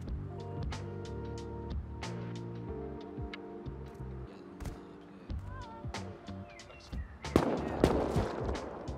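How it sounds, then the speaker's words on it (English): Gunfire in a Rust-style shooter game: a run of sharp single shots spaced over the clip, with a denser burst near the end, set against a steady musical or ambient bed. "I'm gonna start shooting."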